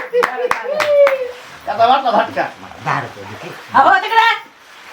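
A few sharp claps ring out at the start, followed by animated talking with whiny, dog-like vocal sounds.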